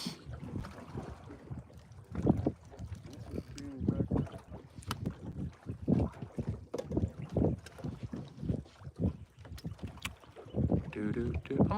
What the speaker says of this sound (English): it's gonna be a windy one today